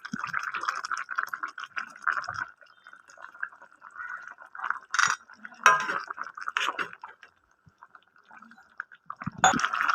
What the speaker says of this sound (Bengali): এবার আমি নামানোর আগে দইটা ওপর থেকে আমি দিয়ে দেবো।